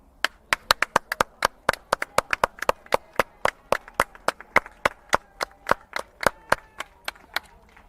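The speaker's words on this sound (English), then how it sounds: "applause." A lone pair of hands clapping in a steady, sharp rhythm for the pitcher at a 14U youth baseball game, close and distinct with quiet gaps between claps.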